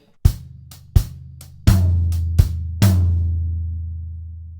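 Drum kit plays a two-bar steppers groove from a Trinity Grade 4 piece, with hi-hat eighths, floor tom accents and a steady four-on-the-floor bass drum, giving loud struck hits over a ringing low decay, with no voices.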